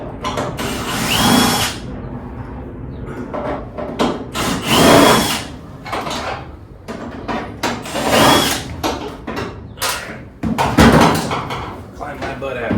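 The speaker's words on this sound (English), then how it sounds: "now, screws got to come out" A power drill backs screws out of car body panels in a garage, giving several loud close whirring bursts separated by short pauses, while someone talks in between.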